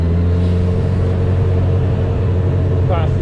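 A Honda CB1000R motorcycle rides through the streets of South Queensferry. Its engine makes a loud, steady, close rumble, mixed with constant wind rush and no clear changes in pace.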